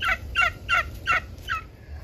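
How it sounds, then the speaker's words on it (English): Bourbon Red turkey gobbling in a backyard pen: five quick, rattling gobble bursts in an even rhythm, fairly close and clear with no talk over them. "This is a bourbon red turkey."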